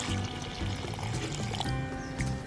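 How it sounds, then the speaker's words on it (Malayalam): Water pours steadily into batter in a continuous close splashing stream, without voices. "വെള്ളം ഒഴിക്കാം"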